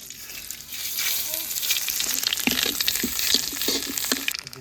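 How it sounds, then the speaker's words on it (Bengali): Black cumin seeds hit hot oil for tempering and sizzle in a steady close frying hiss, with a few soft stirring scrapes and pops along the way. "ফোড়নে দেব কালো জিরে,"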